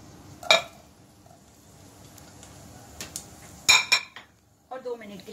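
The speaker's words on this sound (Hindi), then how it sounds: "और 2 मिनट के लिए सॉटे करना है" Garlic and green chillies are stirred in a pan of hot oil, with a few sharp clinks of a metal spoon against the pan over a quiet background sizzle.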